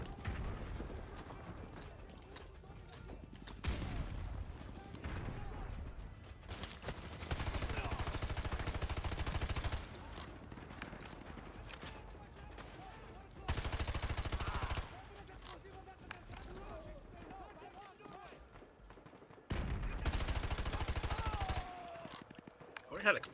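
Gunfire in the Modern Warfare 2 Remastered campaign, coming in several sustained loud bursts separated by quieter stretches with scattered shots, a voice talking at times between them.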